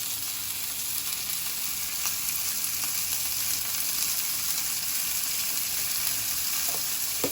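Broccoli sautés over high heat in a pan, a close, steady hiss and crackle of sizzling oil that stays even throughout, with faint clicks and no talking.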